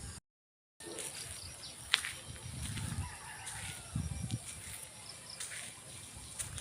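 Chickens clucking and fussing outdoors in the Philippines at moderate distance, with a brief sharp call standing out amid steady background rustle.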